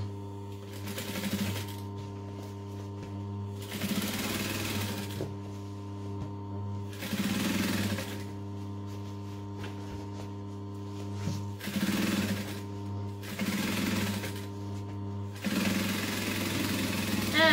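A sewing machine runs in short bursts while backstitching a handbag, with its whirring motor starting and stopping in a steady rhythm several times, close and clear.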